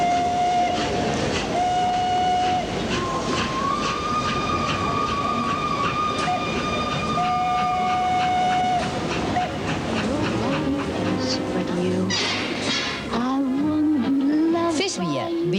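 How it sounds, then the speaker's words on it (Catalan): A train runs on rails in an advert for the railway museum at Vilanova i la Geltrú, with loud steady rolling, a sustained whistle and clanking, and a voice speaking near the end. "vine en tren al Museu del Ferrocarril, Vilanova i la Geltrú"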